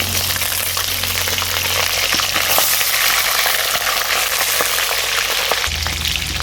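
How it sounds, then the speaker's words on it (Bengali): A fish head frying in a pan, turned over in hot oil, with a loud continuous sizzle and crackle and a few scraping stirs throughout. "মাছের মাথাটাকে ভালো করে উল্টে পাল্টে ভেজে নিচ্ছি"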